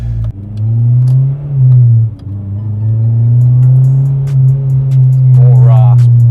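A Honda Civic Type R EP3 with a Spoon N1 exhaust revs close by, a loud droning engine note that rises and holds through two long pulls with a brief dip between, over a steady idle hum.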